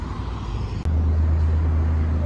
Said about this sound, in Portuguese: Gontijo, 19540. Saindo aqui do terminal rodoviário da cidade de Pouso Alegre.